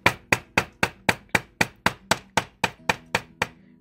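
Repeated sharp metallic hammer strikes on a wire heart resting on a ceramic tile base, about a dozen quick, even taps close by with ringing decay, no voices.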